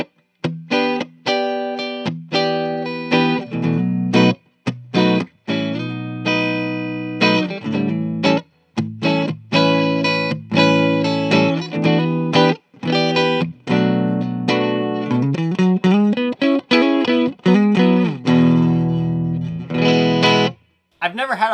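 A distorted electric guitar on its neck pickup plays chords and riffs continuously, thick and warm with a rounded tone, loud and close with brief pauses; a 1992 Gibson experimental prototype.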